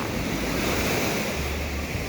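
Ocean waves wash onto a beach in Mexico in a continuous, loud roar of surf, with wind buffeting the microphone and no voices.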